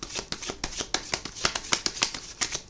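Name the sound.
shuffling tarot cards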